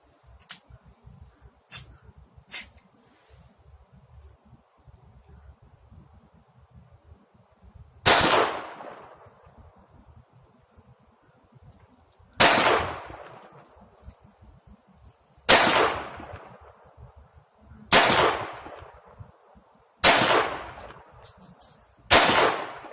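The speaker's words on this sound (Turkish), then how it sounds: "Ben de bir atış yapalım görelim" A 7.65 Kırıkkale pistol fires single loud, sharp shots outdoors, five in all and several seconds apart, each with a brief echoing tail. Light handling clicks come before them.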